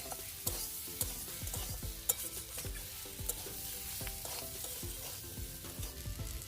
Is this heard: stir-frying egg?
yes